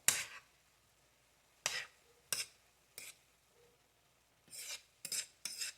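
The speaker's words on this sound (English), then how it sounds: "I'm going to cook it down a little bit and mix it up, mix the noodles up. The kelp noodles with the zucchini noodles" Kelp noodles and zucchini noodles being tossed and stirred together in a pan, heard as separate scraping, clinking utensil strokes, several short bursts spaced by quiet gaps, close and fairly soft.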